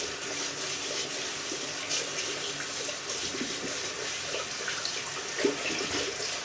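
A bathroom tap runs in a steady, moderate stream for rinsing shaving brushes, a constant watery rush with a small clunk near the end.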